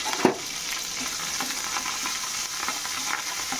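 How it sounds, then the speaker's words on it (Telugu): Curry leaves, coriander and mint crackle in hot oil as a tempering fries in a pan, a steady close sizzle with a brief clink of stirring near the start. "ఇవి ఫ్రై అవ్వాలి."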